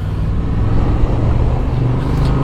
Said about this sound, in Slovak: tu je napríklad autobus